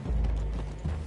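Horse hooves clip-clopping on the ground in the Western game Red Dead Redemption 2, a few close, dull thuds over a low steady rumble, with no voices.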